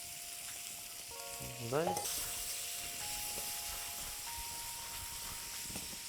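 Tomatoes tipped into a hot frying pan with courgettes while a frittata is cooked, giving a steady close sizzle and hiss with a brief clatter as they land, and a voice speaks briefly over the frying.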